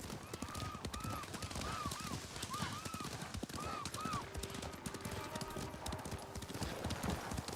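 Horse hooves clip-clop in a quick, steady rhythm throughout in the video game Ghost of Tsushima, with brief tonal calls and faint voices in the background.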